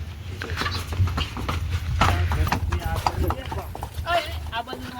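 A mare's hooves clip-clop on the ground at close range, irregular steps under steady talk from several people as the horse is ridden and prompted to jump.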